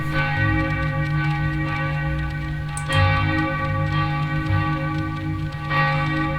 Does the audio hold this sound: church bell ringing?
yes